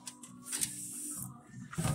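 A label maker prints a label while a 1968 Camaro's heater box is being removed, giving a faint close-up whirring hiss with small mechanical buzzes over about two seconds.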